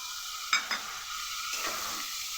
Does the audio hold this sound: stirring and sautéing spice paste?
yes